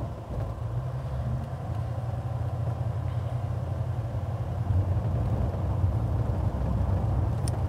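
A 1950 Chevrolet stretch-cab restomod truck cruises through a neighborhood, its engine a steady low rumble with road noise heard from inside the cab, continuous and even throughout with no talking.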